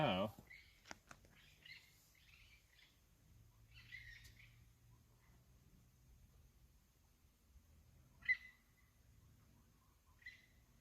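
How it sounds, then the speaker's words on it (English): Scattered bird chirps and calls come in short bursts against a quiet background, with a sharper squawk near the end and faint murmuring low in the mix. "Sounds like some birds not getting along."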